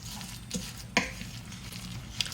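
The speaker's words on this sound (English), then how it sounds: "we'll mix this together" A seasoned cracker mixture is stirred in a bowl, giving soft, close scraping and rustling with a few sharp clicks of the utensil against the dish.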